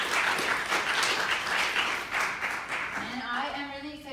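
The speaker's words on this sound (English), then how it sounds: "So round of applause for Holly." An audience applauding Holly, a former mechanical engineering graduate receiving an award, with broad sustained clapping that fades as a voice begins speaking near the end.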